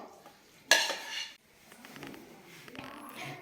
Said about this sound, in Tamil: நம்ம வதக்கி வச்ச வெங்காயம் பூண்டு இஞ்சி பச்சை மிளகா நல்லா ஆறிடுச்சு அதை மிக்சி ஜாரில் சேர்த்துக்கலாம்